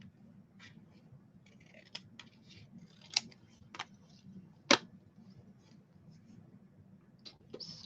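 Scissors snip a paper letter in a string of faint, sharp cuts at irregular intervals, with one crisp louder snip near the middle, over a low, quiet background. No voices are heard.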